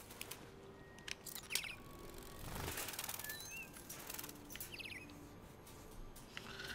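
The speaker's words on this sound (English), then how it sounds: "Oh my god, these are fake birds." Synthetic ambient birdsong in the video game Detroit: Become Human: scattered short chirps and tweets from several birds over a quiet outdoor background, with a brief low rumble partway through.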